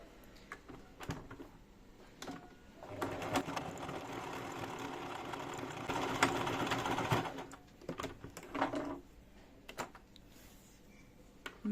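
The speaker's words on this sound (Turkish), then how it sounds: "Şimdi bunları da bu şekilde dikiyorum." A sewing machine stitches the fabric of a door organizer, running in a steady whir for a few seconds and then a shorter burst, with clicks and handling noises before and after.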